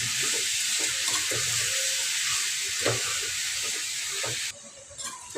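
Mutton with turmeric and salt stirred in hot oil gives a steady, close sizzle and hiss, with scattered scraping stir strokes from the spoon and a brief drop in the frying noise near the end.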